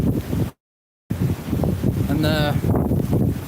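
Strong wind and heavy rain in Blackpool batter the microphone with loud, gusting rumble and hiss. A brief dropout of silence interrupts it, and a person speaks over the noise.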